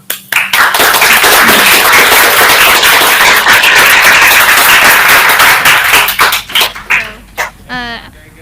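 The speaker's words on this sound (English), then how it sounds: "we really present a huge round of applause to all the students" Students and an audience give a loud, dense round of clapping during a video exchange session, sustained for several seconds before thinning into scattered claps; a voice or squeak briefly sounds near the end.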